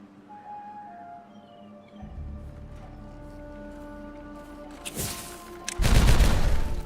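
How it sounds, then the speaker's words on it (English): Dynamite bombs in the colony-building game Timberborn go off as a couple of sharp, loud blasts with crackling debris, following a stretch of soft tonal game ambience. "Bombs."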